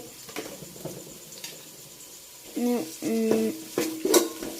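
Mango pickle stirred in a pan with a spoon after turmeric powder goes in: scattered light scraping and soft clinks, growing busier and louder toward the end, with no voices.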